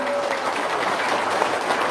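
An audience at an Indonesian holiday-season gathering applauds steadily, a dense continuous clatter of many hands clapping with no break for the whole stretch.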